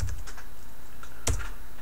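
Keystrokes on a computer keyboard while a function is typed into GeoGebra: a few soft, close taps followed by one sharper, louder key press, with no talking.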